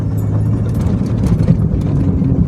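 A Jeep XJ driven on the road rattles loudly and constantly over a low engine drone, with a dense irregular clatter from inside the cab and no talk.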